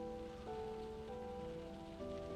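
Rain in Skyrim with the Requiem mod falls steadily as a soft, continuous hiss over sustained background music tones, with no talking.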